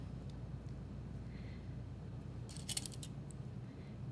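Scissors cut through quilt fabric pieces for a quilt block, a brief cluster of crisp snips midway through the clip over a steady low room hum, with no talking.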